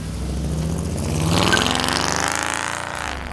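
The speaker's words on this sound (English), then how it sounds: "that Hemi is making some power and sounding amazing" Hemi engine of a 1951 Mercury coupe running, a loud close throaty drone that rises in pitch as it revs, heard alone without talking.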